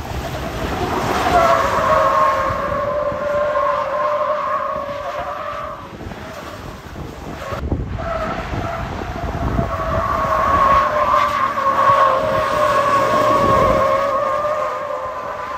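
A Honda Civic doing a burnout and a Ford F-150 spinning donuts: steady, loud tyre squeal over a revving engine, dipping briefly midway before swelling again, with no talking.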